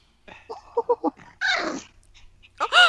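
A dog makes a burst of short, rhythmic grunting noises close by, then a rougher breathy sound and a rising high whine, with quiet gaps in between.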